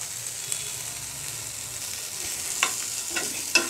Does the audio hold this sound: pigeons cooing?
no